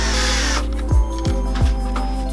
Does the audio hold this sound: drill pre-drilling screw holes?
yes